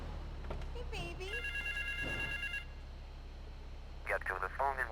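In the game GTA 3, a phone rings out in West Belleville Park in short repeated electronic bursts, with radio-style music and game ambience underneath.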